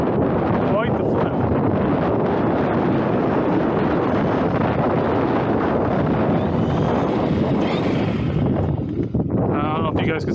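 Strong wind buffets an outdoor microphone, a loud, continuous low rumble that covers nearly everything, with faint voices mixed in beneath the roar.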